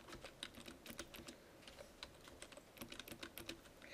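Rapid, quiet clicks of keys being typed on a computer keyboard, uneven bursts of presses close by with no speech.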